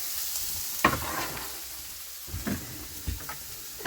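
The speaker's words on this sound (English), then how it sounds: "Sizzle, sizzle, sizzle." Onions sizzling in a frying pan in a shed before steak goes in, a steady hiss of frying punctuated by a few sharp scraping stirs and clanks.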